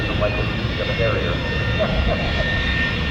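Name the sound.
AV-8B Harrier jet engine arriving at Oshkosh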